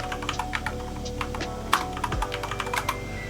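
Someone types a username on a computer keyboard in a short, brisk burst of light key taps, close and clear, with one slightly heavier keystroke partway through.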